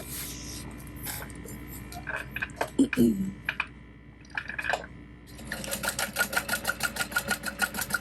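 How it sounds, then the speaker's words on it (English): A sewing machine runs in brief starts and stops, then settles into a steady rhythmic run while top stitching a folded edge on a fabric backpack. Someone talks over the start. "I'm gonna top stitch this folded edge"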